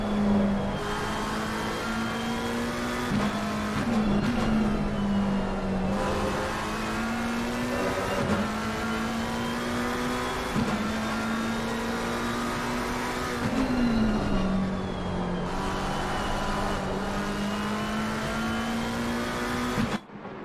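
Race cars lapping Brands Hatch in Assetto Corsa Competizione, a continuous high engine whine climbing through gears with brief dips at upshifts and braking, loud and close, other cars audible nearby, no voices.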